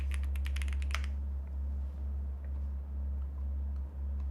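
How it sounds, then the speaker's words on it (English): A computer keyboard is typed on in a quick burst of crisp, close clicks during the first second, then the keys go quiet over a low electrical hum. "Keyboard sounds really nice."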